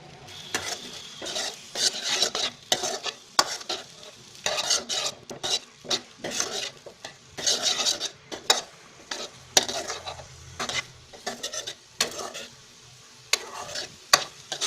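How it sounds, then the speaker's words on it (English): Onions sauté on a low flame in a pan for an okra (bhindi) sabzi as a spoon stirs them, soft steady sizzling broken by frequent scraping and clinking strokes against the pan, with no talk. "Now saute the onions till it becomes golden brown."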